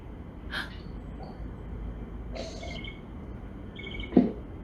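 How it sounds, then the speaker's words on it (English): A few faint, distant bird calls in short separate bursts over a quiet background, with a soft breathy sound near the end. "Listen to the bird."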